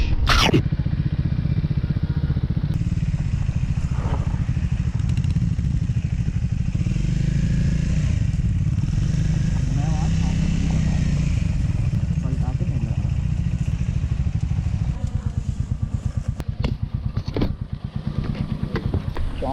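Motorcycles on a Hyderabad to Goa road trip rumble close by, engines idling and revving with clattering mechanical noise throughout, while people talk over them.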